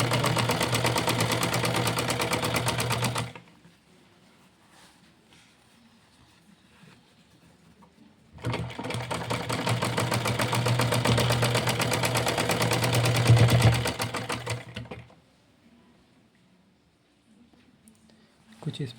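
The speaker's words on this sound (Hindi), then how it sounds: "ये सिलाई आप लगा देंगे यहाँ पर।" A sewing machine stitches a cotton wrestling langot at home, running in two loud, steady bursts of several seconds each with quiet handling gaps between them.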